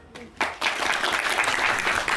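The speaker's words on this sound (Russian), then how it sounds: "Можно поддержать аплодисментами юное дарование" An audience at a poetry evening breaks into applause, a dense burst of many hands clapping that starts abruptly and continues evenly to the end.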